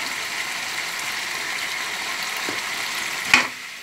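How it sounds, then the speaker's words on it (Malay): Spiced buffalo heart slices fry in oil with a steady, close sizzle while being stirred, and a single utensil scrape or knock stands out near the end. "irisan jantung kerbau yang telah kita potong tadi, kita gaul sampai rata ya"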